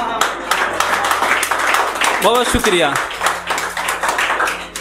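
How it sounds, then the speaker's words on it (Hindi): Scattered audience clapping at a Hindi poetry reading, uneven claps running under a voice as he speaks and thanks the listeners. "आधा लोग ही ताली बजाए, कोई बात नहीं।"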